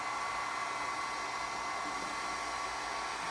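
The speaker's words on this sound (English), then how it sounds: "Take your heat gun, which is right here, and all I do is let it warm up." A heat gun warming up beside a car headlight with the lens removed, giving a steady, loud blowing whoosh with a motor hum that runs unbroken and alone.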